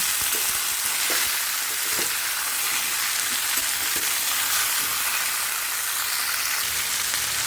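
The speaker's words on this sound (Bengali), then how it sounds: "কুমড়োগুলোকে ভালো করে নেড়ে চেড়ে মশলাটার সঙ্গে ভালো করে মিশিয়ে নিয়ে ঢাকা চাপা দিয়ে দেবো" Pumpkin pieces being stirred with spices in a hot pan, a steady close sizzle of frying with soft scraping strokes throughout, no voices.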